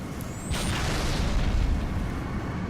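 Grenade explosions in Halo 3 multiplayer make a deep, rumbling boom that fills the whole short stretch, with a loud low roar and a brief whistling sweep near the start.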